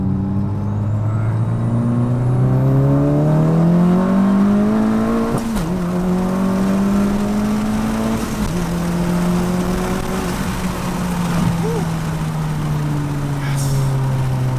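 A Honda Civic Si engine pulling hard through the gears, a loud steady in-car drone that climbs in pitch, drops at quick shifts and climbs again, with road and wind noise underneath.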